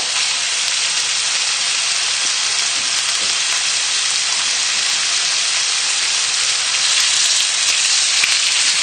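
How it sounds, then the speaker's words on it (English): Chicken pieces sizzle in a hot pan with a dense, even crackling hiss that holds steady at close range, loud and continuous with no voices over it. "A good sizzle."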